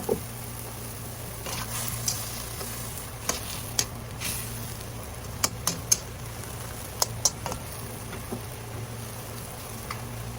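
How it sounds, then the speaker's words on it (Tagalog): A covered pot of water boiling with carrots and meat: a soft, steady hiss broken by scattered small pops and clicks, quiet and close, with no talking. "Ito po, nakulo na po siya."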